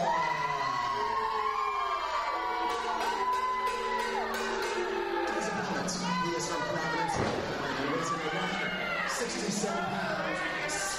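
Arena crowd at a professional wrestling event cheers and shouts steadily, with whoops rising over the noise, while a ring announcer's voice carries on throughout.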